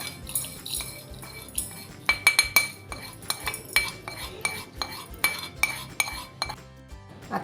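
Metal utensils clink against a mixer jar and dish as roasted garam masala is tipped in, a series of sharp, close clinks and scrapes with no talking.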